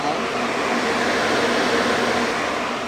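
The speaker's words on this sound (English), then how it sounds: "That second air conditioner's going." Steady, loud broadband hum and rush of an air conditioner running in a converted shuttle bus, a constant close drone with no breaks across the whole stretch.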